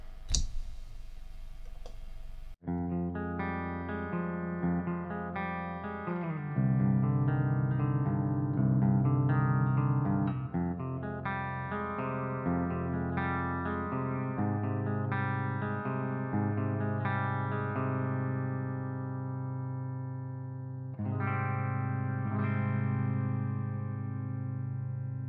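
Electric guitar played through a Mesa Dual Rectifier Reborn Multiwatt amp with reverb, starting after a brief noisy click, then distorted chords and lines with lingering, spacious tails.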